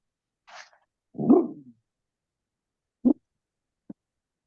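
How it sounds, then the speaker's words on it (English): A dog growls and gives short low barks at a television indoors, a few separate brief bursts with quiet gaps between, fairly close and alone without talk. "growling at the TV. We better turn it off."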